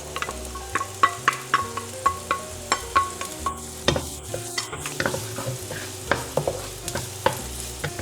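Onion being sautéed with garlic in a hot pan for vegetable lumpia with bean sprouts: steady sizzling under regular scraping strokes of a spatula, close and fairly loud, no voices.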